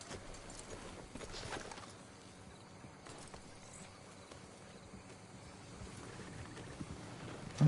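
Horse hooves clip-clop in Red Dead Redemption 2, a quiet steady gait over faint ambient insect chirping and outdoor background.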